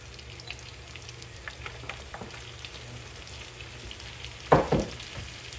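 Fresh garlic frying in melted butter, a soft close sizzle and crackle with light stirring and a brief louder clatter near the end, no voices.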